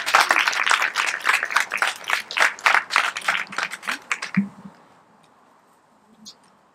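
An audience claps for a speaker named Evita, dense and steady applause lasting about four seconds before quickly dying away into near silence.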